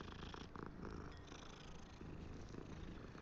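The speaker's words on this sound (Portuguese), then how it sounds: "É um gato." A cat purrs steadily in the Hogwarts Legacy video game, a close, continuous rumbling loop with no voices over it.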